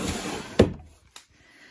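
A scrapbooking-room drawer is pulled open with a single sharp wooden knock, followed by a fainter second bump about half a second later, close and otherwise quiet.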